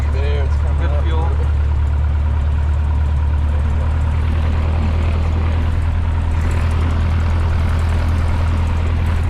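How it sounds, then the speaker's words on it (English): A Cessna light airplane engine starting and settling into a steady low idle, a loud continuous drone throughout with brief higher whines at the start. "When you hear the engine start, just let go of the key."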